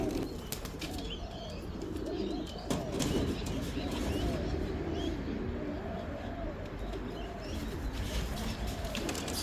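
Racing pigeons at the home loft after a 350 km race give soft, repeated cooing over a steady bed of outdoor ambience, with occasional faint chirps and a brief rustle of movement.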